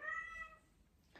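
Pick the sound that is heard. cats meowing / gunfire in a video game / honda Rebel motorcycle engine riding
cats meowing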